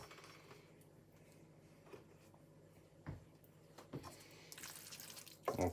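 Water pours into a pan of lamb curry being cooked on a plug-in hob, a steady splashing stream with a few louder clanks and a brighter rush of pouring at the end, close by.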